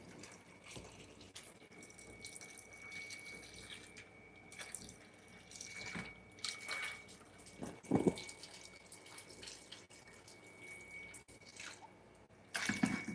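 Water running from a hose into a fish tank in a home fishroom, a steady low wash of flow with scattered drips and splashes and a few louder gurgles, with no talking.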